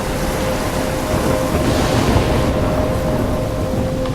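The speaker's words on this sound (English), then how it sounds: "I'm trapped in a storm?" A thunderstorm in the video game Life is Strange roars as loud, continuous rain and rumbling thunder that swells and surges through the whole stretch, with no voices over it.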